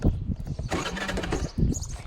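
A scooter that has run out of petrol is kick-started, giving loud, close, rough cranking bursts that come in a few separate tries without settling into a steady idle.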